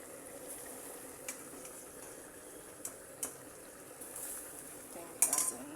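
A spoon stirs beans in a cooking pot on an East African kitchen stove, with faint, sparse clinks and scrapes against the pot that gather into a brief clatter near the end over a soft bubbling background.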